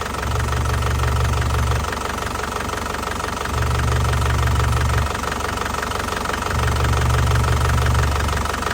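A warm 2012 Isuzu Panther Grand Touring diesel engine idles close by: a steady, loud clatter with a deep throb that swells and fades about every three seconds.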